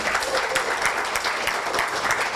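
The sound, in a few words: audience applause after performance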